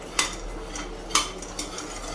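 Peanuts being stirred in a pan as they roast slowly over a low flame: a few distinct scraping clinks of a spoon against the pan at irregular intervals, close and fairly clear over a steady low background.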